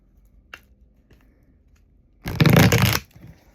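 Tarot cards are shuffled in one short, dense riffling burst of under a second, preceded by a few faint taps and handling sounds in a quiet room.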